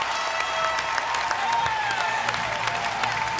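A CrossFit Games arena crowd applauds and cheers in a dense, continuous roar, with a commentator's voice running over it.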